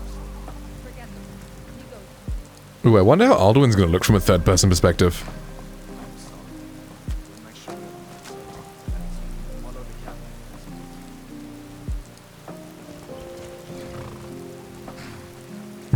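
Steady rain patters on surfaces in Skyrim, a soft continuous hiss throughout, briefly covered by a loud burst of game sound near the start, with people talking over it.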